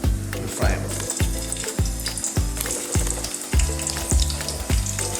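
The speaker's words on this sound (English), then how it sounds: "let's put them on some hot oil and fry them." Goat mutton pieces frying in hot oil for biriani, a loud close crackling sizzle pulsing in regular rhythmic bursts as the meat is stirred, with no voices.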